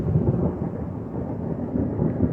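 Thunder rumbles low and continuously during a storm with rain and hail on a skyline, a deep rolling roar that stays steady and loud without any voices.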